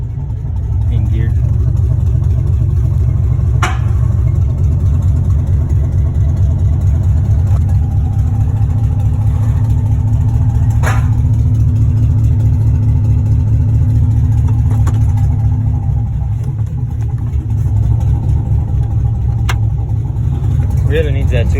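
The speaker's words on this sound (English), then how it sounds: "it's a very low idle" A 6.0 engine idling low in gear, with a loud, steady, deep rumble throughout and a few faint clicks on top.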